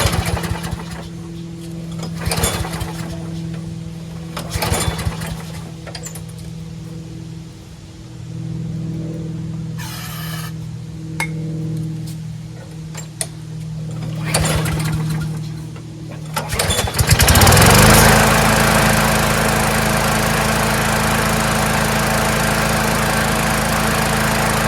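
A repaired lawnmower engine with a manual primer bulb is started after scattered handling noises and one short burst, then runs steadily, loud and close, for the final stretch.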